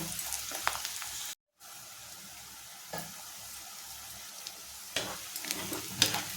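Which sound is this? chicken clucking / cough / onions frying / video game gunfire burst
onions frying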